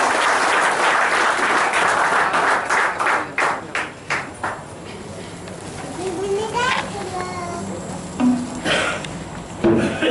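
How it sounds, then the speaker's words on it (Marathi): A crowd applauds to welcome a speaker with dense clapping that thins into scattered claps, while children's voices and talk carry on underneath and a few later claps break through. "सर्वांनी जोरदार टाळी स्वागत करा चंद्रहास नाईक"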